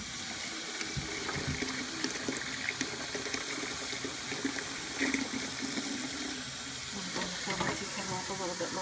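Hot water from a tea kettle is poured into a container for homemade laundry detergent, giving a steady rushing, splashing stream that fills the clip at close range.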